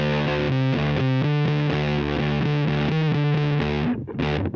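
An electric guitar runs through a distortion pedal on a pedalboard, playing loud, saturated, sustained chords in steady succession for several seconds before the tone breaks off near the end.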